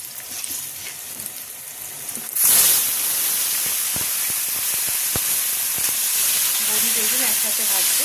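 Bori lentil dumplings and eggplant frying together in a pan, a sudden loud sizzle bursting in as the pieces go into the hot oil, then steady close crackling and hissing.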